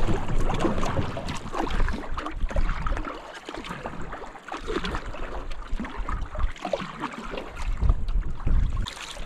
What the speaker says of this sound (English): there is so much headwind, we will have to go along the islands here to get some protection from the wind.